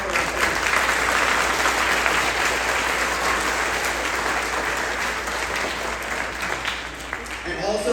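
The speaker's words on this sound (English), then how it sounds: "let's give a huge round of applause for our students" A huge round of applause for students at a 4th grade graduation ceremony, loud continuous clapping and crowd noise that stays steady throughout with some indistinct voices mixed in.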